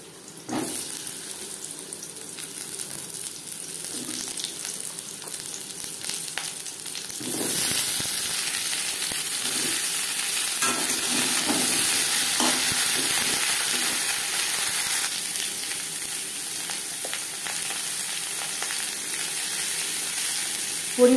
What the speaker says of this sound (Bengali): পটলও ভেজে নেব।